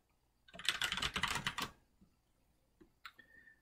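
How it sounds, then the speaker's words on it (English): A password is typed on a computer keyboard while enabling SSH during a PiFire setup on a Raspberry Pi: a quick, close burst of keystrokes lasting about a second, then a few isolated clicks in a quiet room. "you can go ahead and type in a password here"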